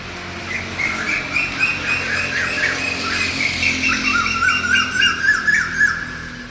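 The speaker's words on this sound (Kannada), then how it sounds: "ಎಷ್ಟು ಚೆನ್ನಾಗಿ ಪಕ್ಷಿಗಳು ಶಬ್ದ ಮಾಡ್ತಾವೆ" Birds squawk and chirp continuously in the early morning, with many overlapping shrill calls at moderate distance over a steady low background hum.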